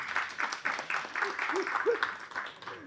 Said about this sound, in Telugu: చప్పట్లు కొట్టండి ప్లీజ్